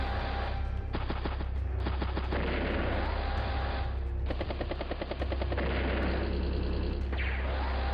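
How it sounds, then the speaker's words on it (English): Rapid machine-gun and artillery fire from missile and anti-tank units in the video game Advance Wars: Days of Ruin, dense bursts of loud staccato shots rolling continuously over a constant low rumble. "It's the missile. Anti-tank down south is taking some hits."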